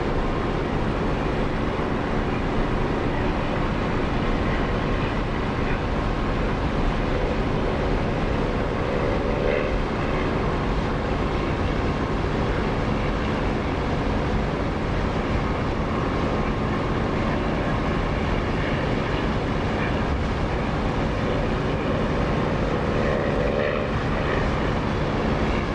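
A propeller aircraft in the DCS flight simulator makes a steady, loud engine drone as it takes off from a grass field. The broadband roar continues without a break and no one speaks.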